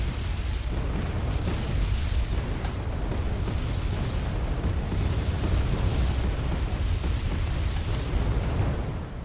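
Artillery fires during a large multiplayer battle in the war strategy game Wargame AirLand Battle, a dense continuous roar of booming blasts and rumbling explosions, loud and steady with no clear gaps.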